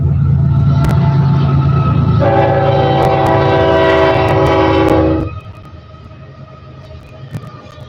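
A train passes close by, its horn sounding loudly in long sustained blasts over the heavy rumble of the rail cars, then the horn cuts off and the rolling noise fades lower.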